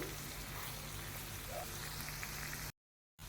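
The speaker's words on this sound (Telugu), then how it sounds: "ఇప్పుడు అన్నింటినీ వేయించుకోవాలి కలర్ మారే వరకు వేయించుకోవాలి" Chopped onion, chana dal and urad dal frying in a pan, giving a soft, steady sizzle and crackle that runs on quietly and then cuts to brief silence near the end.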